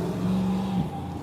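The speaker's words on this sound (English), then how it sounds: "This car is pulling up right as that one straightens out on the street." Car pulling up on a street, a brief close engine hum with a steady low tone that drops away near the end.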